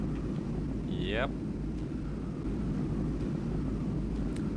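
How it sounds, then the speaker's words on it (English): A steady engine drone of an airplane flying in WarRock fills the scene as a constant broadband rumble, with a brief whistling sweep and a voice speaking briefly over it. "all we gotta do is fly an airplane through all these rings"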